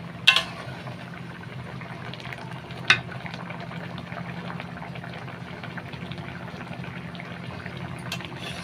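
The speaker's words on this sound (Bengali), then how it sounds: "এখানে মাছের ঝোল রান্না করছি, সরপুঁটি মাছের ঝোল করছি" Sarputi fish curry simmers in a pot on a stove, giving a steady, low bubbling hiss throughout, broken by a couple of brief sharp clicks near the start.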